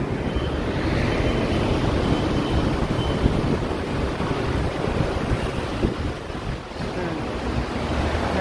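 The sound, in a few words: strong wind on a seaside walk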